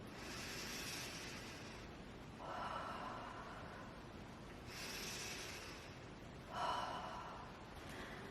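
Slow, deep breaths taken close and quiet, each airy inhale and exhale drawn out over a couple of seconds in an even, calm rhythm with no talk.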